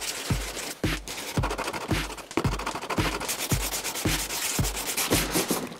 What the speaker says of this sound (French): Donc là, il va falloir que je ponce encore.